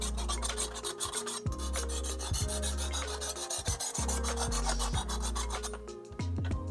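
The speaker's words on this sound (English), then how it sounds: "So I'm gonna go ahead and get this sharpened up." A knife blade scrapes back and forth across a Sharprock sharpener stone in quick, regular rasping strokes, close and clear, with brief pauses between passes and no talking.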